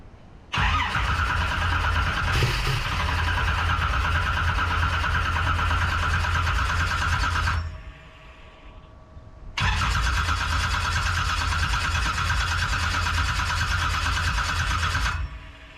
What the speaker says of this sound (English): You gotta basically crank it within the next couple of minutes